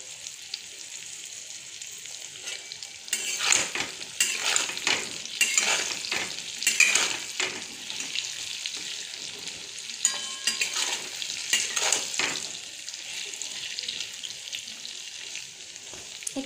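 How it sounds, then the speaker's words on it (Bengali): Chhana bora fry lightly in a pan with a steady oil sizzle, broken by repeated scraping stirs of a spatula, fairly close and continuous, with no talking. "এটা হালকা ভাজলাম"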